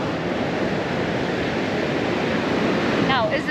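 Ocean waves wash along a Tahiti coastline in a dense, steady roar of surf with wind buffeting the microphone, and a brief high chirp near the end.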